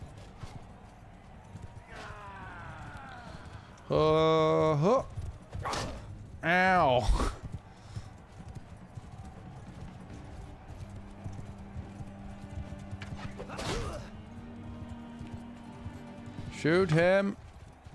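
Horse hooves clip-clopping with neighs in Mount & Blade battle gameplay, a steady galloping patter under ongoing talk, with several loud whinnies cutting in near the start and again near the end.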